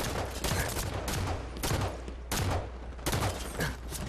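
Automatic gunfire in Halo 5 Warzone, the video game, with dense sustained bursts of rapid shots in several loud waves separated by brief pauses.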